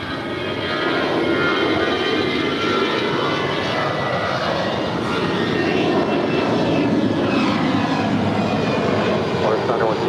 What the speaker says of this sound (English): Volaris flight 912 coming in from Guadalajara. It's an A320 named Samuel.